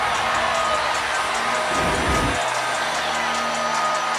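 A basketball arena crowd at an NCAA women's second-round game between Maryland and Alabama roars in reaction to an out-of-bounds call, a broad sustained wash of cheering and shouting that swells briefly with a deep thump midway.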